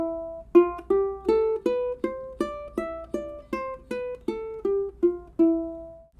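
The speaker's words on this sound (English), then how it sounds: "Now we're going to play the E Phrygian mode, and that's going to sound like this." A ukulele picks out the E Phrygian mode note by note, roughly fourteen evenly paced plucks stepping up and back down, bright and close with short sustain and no voice present.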